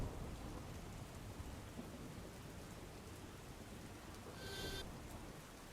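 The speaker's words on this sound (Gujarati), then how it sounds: "દાહોદમાં મોડી રાત્રે કડાકા ભડાકા સાથે ધોધમાર વરસાદી ઝાપટા પડવાની શરૂઆત થઈ હતી" Heavy rain falls late at night in Dahod, a steady wash of downpour with rumbling thunder, heard from a distance and fairly quiet throughout.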